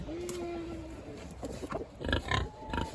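Pigs on a small farm grunt and snort in short bursts up close, the oinks growing busier toward the end, with a brief tonal sound early on.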